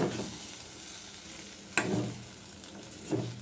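Rava kichadi stirred in a pan over low heat, a soft sizzle with a few distinct scraping spoon strokes, close and quiet, no talking.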